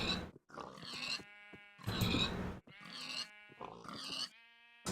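Pigs in the Minecraft-style video game Agrarian Skies give about five short, close, tonal grunts and squeals, each separated by brief pauses, with no talking.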